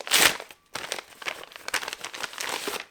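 A paper envelope from the publisher Éditions Hugo being torn open and handled, with close crinkling, tearing and rustling in uneven bursts and no talk.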